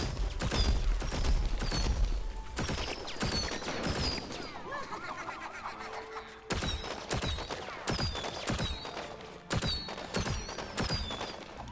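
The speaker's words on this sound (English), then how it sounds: "I like the crackle sound that they make when they're off in the distance." Distant crackling like firecrackers in a video game, dense irregular pops and snaps in clustered bursts that pause and resume, with faint whistling tones above.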